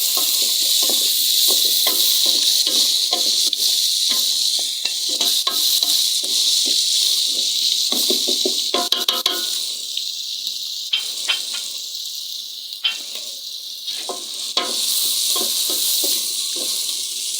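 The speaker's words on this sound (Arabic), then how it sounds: "نديرو البصله تقلى شويه" Sliced onion frying in oil in a pan for Moroccan-style roast chicken, a steady loud hiss and crackle throughout with scattered stirring clicks and brief pops, no voices.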